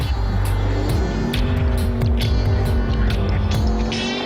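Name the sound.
Noble M600 sports car driven fast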